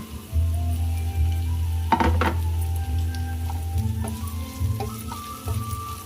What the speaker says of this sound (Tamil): வதங்கினோடனே கட் பண்ண வச்ச உருளைக்கிழங்க போடணும்.